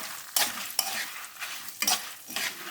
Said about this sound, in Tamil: இந்த மிளகாய் வந்து நல்லா வறுப்படணும்